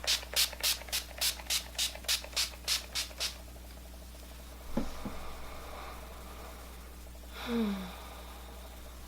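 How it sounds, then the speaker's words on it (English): A quick series of about ten short, hissing bursts of setting spray from a pump bottle onto a face, close up, followed by soft rustling and a breath. "And so I do spray a healthy amount of this on my face."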